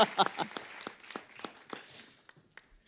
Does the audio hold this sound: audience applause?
yes